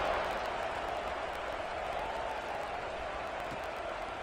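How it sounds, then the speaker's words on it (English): A football stadium crowd buzzes with a steady, dense roar just after a score, cutting the lead to 28-21, sustained and even throughout with no clear individual voices. "this crowd is buzzing after that last score"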